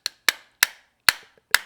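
Five sharp, separate taps of a nylon-tipped hammer driving a pin into a Gen 5 Glock pistol, struck close up at an uneven pace with brief ringing decays and no talk.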